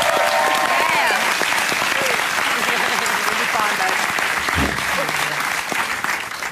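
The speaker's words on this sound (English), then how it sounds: "A round of applause everyone for Jay Watson" Audience applause fills the room with dense, loud, steady clapping. It fades slightly toward the end.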